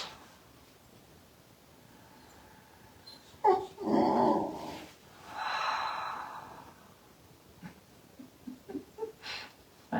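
A dog snorts, sniffs and breathes heavily close to the microphone during a yoga session, in several irregular bursts with quieter snuffles between them.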